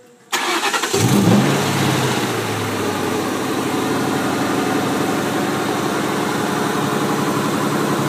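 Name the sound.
car engine starting and running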